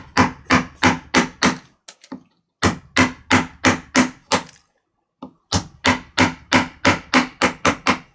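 A hammer strikes wood in quick, even runs of sharp knocks, loud and close to the microphone. Several short pauses split the bursts, and nobody talks.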